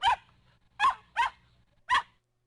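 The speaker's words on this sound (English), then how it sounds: "Pee-Pee stood facing the hatch and barked." A small dog in the visual novel game Ever17 gives four short, sharp barks in an uneven rhythm, close and clear with quiet gaps between them.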